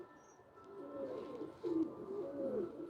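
Pigeons cooing on a rooftop, soft repeated low coos in a slow rhythm, fairly near but quiet, with no talking.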